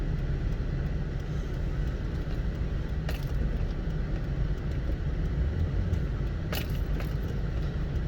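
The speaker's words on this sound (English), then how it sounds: "I just got a lot of traffic going on here" Road traffic at a dangerous spot rumbles past nearby in a continuous loud roar, with a couple of brief sharp clicks or rattles standing out over the steady engine and tire noise.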